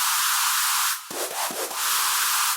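A harsh, bright high-pitched synth screech, sustained and loud, briefly dropping out and stuttering in the middle before holding again.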